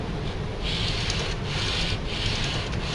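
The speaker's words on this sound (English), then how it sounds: "You need to keep sanding over the total length of the board." A sanding beam levels guitar frets in close, rhythmic back-and-forth strokes, each scrape a raspy hiss repeating roughly twice a second.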